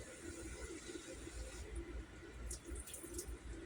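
Water running steadily from a kitchen tap while making gravy, a continuous rushing splash with a low burbling undertone and some faint clinks near the end, close and moderately loud.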